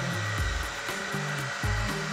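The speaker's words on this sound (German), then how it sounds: "Nee, das ist eine Bohrmaschine." An electric drill in a car repair workshop whirs in short, repeated revving bursts, loud and close, with no talking over it.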